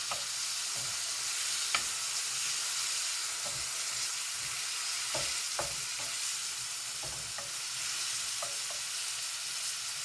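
Crushed tomato sizzles in a hot pan, a steady hiss punctuated by repeated clacks and scrapes of stirring, close by with no voices.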